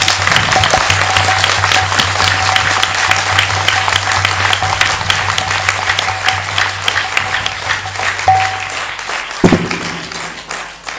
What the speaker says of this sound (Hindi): एक ताली बजा देंगे।